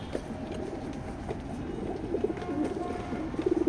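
Racing pigeons of a foreign bloodline coo steadily inside a loft, a soft continuous murmur of several birds close by, their throaty calls growing a little louder toward the end.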